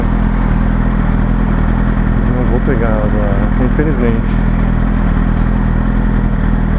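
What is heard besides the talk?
Yamaha R1 motorcycle riding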